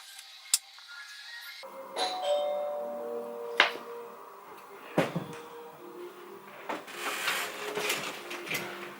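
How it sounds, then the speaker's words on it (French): A doorbell rings inside a home, a few short bright chimes spread across a quiet room with faint knocks and shuffling in between. "On vient de sonner chez moi, je vais voir ce que c'est."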